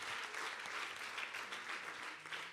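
An audience at a talk on women's place in Emmaüs claps, a faint, continuous patter of applause heard from a distance without voices over it.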